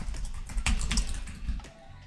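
Keys clatter on a computer keyboard as a password is typed, a close burst of uneven taps and clicks that tapers off near the end, with no talking.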